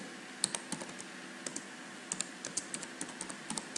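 Keys on a computer keyboard are tapped in short, irregular bursts while typing text into a word processor. The clicks are fairly quiet and close, with no voices.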